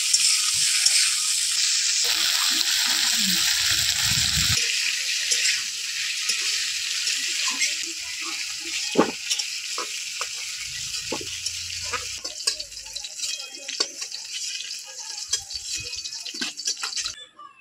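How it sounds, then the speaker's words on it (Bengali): Malabar spinach stalks fry lightly in a pan, a steady close hiss that carries on for most of the time alongside scattered clinks and stirring knocks, with no voices. "ডাঁটাগুলো খুব বেশি ভাজবো না, এমনিতে ডাঁটাগুলো প্রচুর নরম, হালকা ভেজে তুলে নিই"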